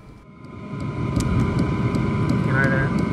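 A homemade diesel heater built into a box runs through its first firing, a steady broadband engine-like roar and rumble rising over the first second and then holding loud and constant close by.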